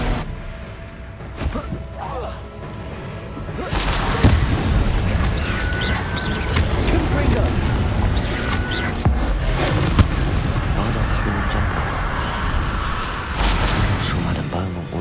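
Confringo spell blasts exploding during combat in Hogwarts Legacy, dense booming bursts layered with crackling debris and magical effects, loud and sustained over several seconds.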